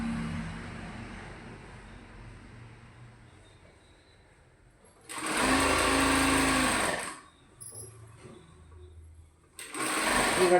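A sewing machine stitches a slit churidar in two close, loud bursts of fast, whirring needle chatter, separated by a quieter pause, with faint background hum between runs.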